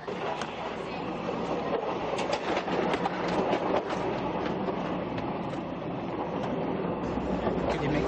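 Passenger train riding the rails in the Philippines, heard from inside a carriage as a loud, continuous rumble and rattle of wheels on track with faint clattering throughout.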